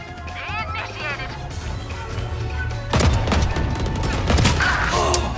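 Rapid bursts of gunfire crack in the video game Valorant, loud and close, coming as several volleys with rattling automatic fire while a player talks over the action.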